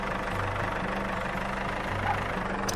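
A tractor engine idles with a low, steady mechanical hum and faint knocking pulses, heard alone at moderate loudness.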